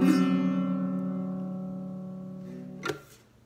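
A chord strummed once on a half-size Peavey Star Wars beginner guitar rings out with a bright, slightly sour tone and decays slowly, followed by a sharp click or muted touch near the end.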